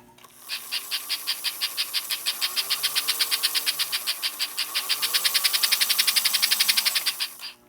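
American Flyer Hudson toy locomotive's electric motor runs on the bench, giving a steady rapid ticking whir with a rising and falling pitch, alone and close by.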